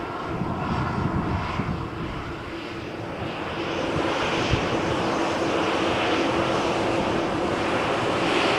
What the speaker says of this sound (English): This is the Jet2Com flight to Leeds.